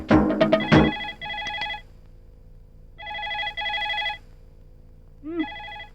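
A telephone rings in bursts of two electronic trills, pausing between rings, heard clearly indoors after a few brief knocks and clatters at the start, with a short voice-like sound near the end.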